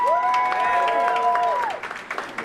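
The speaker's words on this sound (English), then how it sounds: "Can we clap it up for that?" Audience applause at a city creative-month kickoff event in Washington, DC, a fairly loud spread of clapping with a sustained tonal hum or musical note running through it before the clapping trails off into scattered claps.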